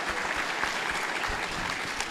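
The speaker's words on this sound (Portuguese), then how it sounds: "Vamos dar uma salva de palmas para eles?" A church congregation claps steadily, a dense patter of applause that holds at an even level for a couple of seconds.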